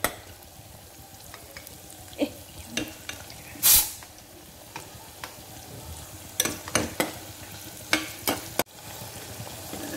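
Onion and tomato for chicken biryani cook in a pan under a steady sizzle, with scattered scrapes and knocks of a stirring spoon and one brief sharp hiss burst, close-up and without speech.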